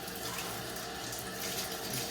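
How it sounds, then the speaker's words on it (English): Tap water runs steadily from a faucet as a vacuum or air filter is rinsed under the stream, a close, continuous splashing hiss with no talking. "we'll turn the water on here. So if you're rinsing the filter, just flow it under the water"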